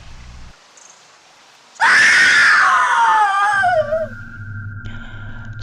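A woman's piercing, drawn-out scream rings out abruptly from near silence at a night campsite by a forest waterfall, wavering then trailing off, followed by low rumbling ambience.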